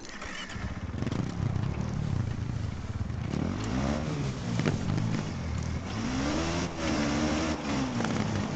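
KTM 450 rally motorcycle engine in the Dakar 18 racing game on the Cordoba stage, revving loudly and steadily with rising and falling pitch sweeps as the bike accelerates, no talking.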